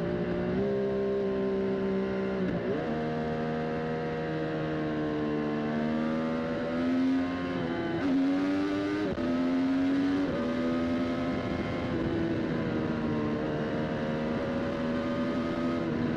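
A Triumph Street Triple 765 RS naked motorcycle engine hums at steady revs, rising and falling in pitch several times as the throttle is worked, loud and close throughout.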